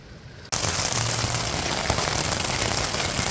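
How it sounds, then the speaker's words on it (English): Steady rain drumming on a tent during a multi-day Blue Mountains hike, starting abruptly and continuing as a dense, even, close hiss. "Raining."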